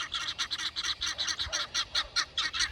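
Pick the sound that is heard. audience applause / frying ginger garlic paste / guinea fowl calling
guinea fowl calling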